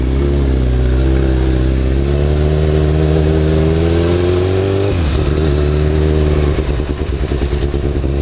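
A Kawasaki Z1000 motorcycle rides through city traffic, its engine loud and steady with a rising pitch, then dropping abruptly as the throttle eases before settling into a rougher, pulsing note.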